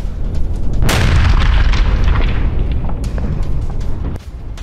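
A rocket strike on a residential building in Haifa, heard as one heavy nearby boom that rolls into a long rumbling wash of debris noise, followed by a few fainter thuds.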